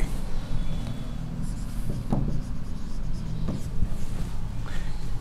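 Marker or chalk scratching steadily across a board during a geometry lesson, continuous close scraping strokes with brief taps, over a constant low background hum.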